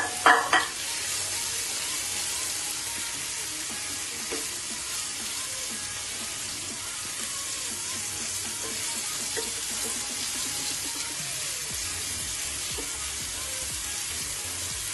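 Spiced paneer cubes fry in a kadai with a loud, continuous sizzle, a brief clatter at the start and soft stirring scrapes throughout, no voices.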